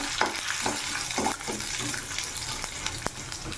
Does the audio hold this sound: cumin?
yes